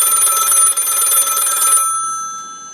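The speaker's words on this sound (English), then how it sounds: "give me like a phone ringing sound" Telephone bell ringing steadily and loud for nearly two seconds, then cutting off abruptly into a faint, quiet tail.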